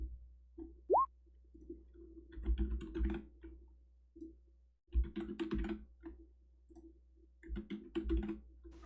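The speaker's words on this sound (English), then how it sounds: "I'm still typing up all the gear you guys just got." Bursts of typing on a computer keyboard, quick clusters of close, crisp key clicks separated by short pauses, quiet and alone.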